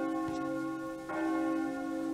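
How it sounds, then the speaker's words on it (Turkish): Church bells ring steadily at a distance with a sustained metallic hum and repeated strikes, fairly faint and with no talk over them. "Bu arada çanlar kimin için çalıyor?"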